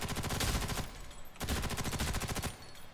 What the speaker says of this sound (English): some of the sound effects are hit or miss on the guns